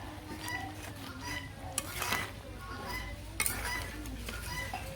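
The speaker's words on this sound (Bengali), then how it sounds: "এখন মিশিয়ে না তরকারি নামিয়ে নিলাম" A metal spoon stirring curry in a pot and scraping the sides as it is taken off the heat in a village kitchen, with soft clinks and steady scraping over faint background noise.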